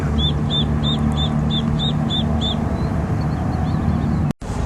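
Small ducks quack at a Sunbury, Pennsylvania waterfront, a quick run of about eight short, evenly spaced calls over a steady rushing background, then quiet.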